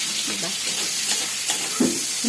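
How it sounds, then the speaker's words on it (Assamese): Dried fish and tomatoes fry together in a pan with a dense, steady sizzle and hiss, while soft scraping stir sounds come and go close by. "একেলগে এনেকৈ ভাজিম"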